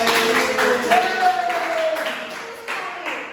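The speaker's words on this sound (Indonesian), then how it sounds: "Tepuk tangan dulu untuk kita semua." Third-grade elementary pupils clap in a few loose bursts during a classroom lesson, with children's voices running over the claps.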